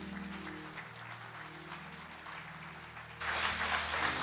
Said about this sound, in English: Let's welcome him with a clap.